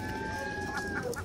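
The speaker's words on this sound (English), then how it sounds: "These are the seagulls" Gulls cry at the dock in Valdez, a few sharp tonal calls near the end over steady background noise, fairly close.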